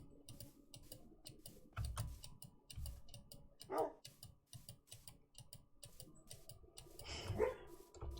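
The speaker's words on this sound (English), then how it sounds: "my dog is having dreams of some description" A sleeping dog whimpers and gives soft muffled woofs while dreaming, a few brief yips rising over a steady ticking clock in a quiet room.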